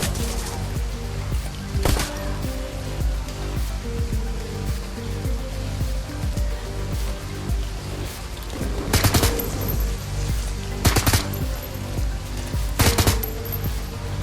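Pistol shots ring out in the video game Shadowrun: Hong Kong, a handful of sharp, spaced bursts over a steady, loud wash of in-game ambience, with no speech.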